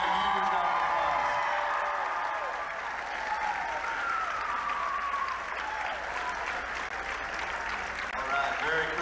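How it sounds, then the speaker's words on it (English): An audience at a school assembly applauds a girls bowling state championship team, with loud, sustained clapping and a few whoops throughout, under and around a speaking voice. "Let's give them a huge round of applause."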